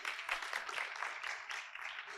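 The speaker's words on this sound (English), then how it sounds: "Yes, you can clap for her for sure" An audience at a journalism conference session claps in brief, light applause, a soft patter of scattered hands that fades slightly toward the end.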